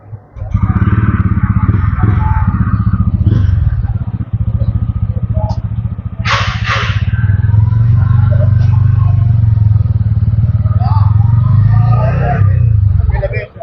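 A TVS Ronin motorcycle on a test ride at the IMOS 2024 show, its engine rumbling steadily up close throughout, with a brief sharp clatter midway and people talking beneath.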